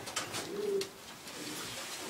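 Pigeons cooing softly in a breeder's loft, a short low murmuring coo swelling near the start and then fading into quiet room tone.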